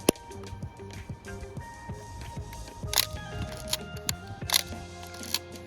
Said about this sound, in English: Tuck the leader into the sprocket, wind on a frame, close the back,